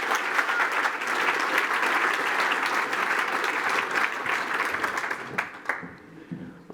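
Sustained audience applause at a tech conference presentation, a dense wash of many hands clapping at steady loudness before thinning into scattered claps near the end.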